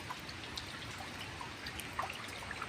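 Rain that has been falling since the previous night makes a faint, steady hiss, with occasional soft drips and patters standing out, distant and quiet.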